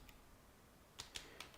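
A few faint, quick keystrokes on a computer keyboard, four soft clicks in the final half-second after a stretch of quiet room noise.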